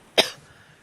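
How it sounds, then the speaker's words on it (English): One short, sharp cough from a man, close to the microphone, fading quickly into quiet room tone. "Cough."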